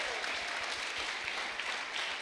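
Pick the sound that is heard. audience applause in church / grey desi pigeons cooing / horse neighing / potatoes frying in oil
audience applause in church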